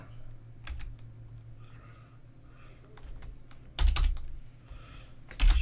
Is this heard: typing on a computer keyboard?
yes